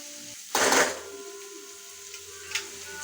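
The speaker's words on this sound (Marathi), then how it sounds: "तर अशा प्रकारे आपल्याला कांदा हलवून घ्यायचा आहे." Chopped onions hit a hot pan with a loud burst of sizzling that settles into a quieter steady fry, with a couple of brief scrapes from stirring afterward.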